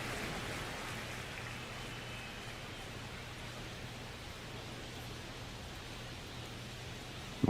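Steady rain hiss in the MLB The Show 25 baseball game, a continuous broadband wash with a low hum underneath, constant and even throughout, no talk, ending in a brief sharp knock.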